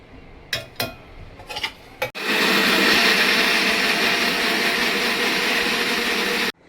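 A kitchen mixer grinder roars steadily for about four seconds, blending roasted onion, coconut and garlic into a paste, after a few short clinks and taps of the jar being set in place.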